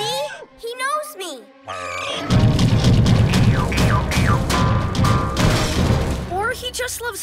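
Crashing and smashing fill a PJ Masks cartoon scene, loud booming thuds and shattering clatter building after a quieter opening, with a voice speaking over parts of it.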